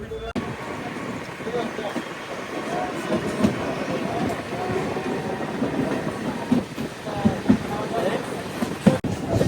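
An Anantapur–Bengaluru MEMU passenger train rumbles along the rails with a steady rolling roar and faint clicks, heard from inside the coach while someone talks over it.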